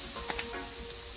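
Onion and garlic sizzle steadily in a pan over low heat, a continuous close frying hiss with faint crackles and no voices.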